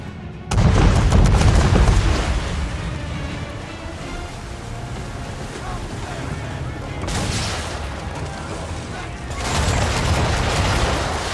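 Ship cannons fire chain shot during an Assassin's Creed 3 naval battle, three heavy booming volleys rolling out loud over a constant roar of sea and wind.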